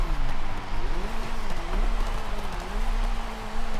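A car drifting slowly in the racing game Forza Horizon 5, with a continuous loud engine drone whose pitch wavers up and down as it slides, steady throughout with no talk.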